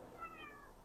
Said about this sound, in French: je vais ouvrir la porte à mon chat qui veut rentrer.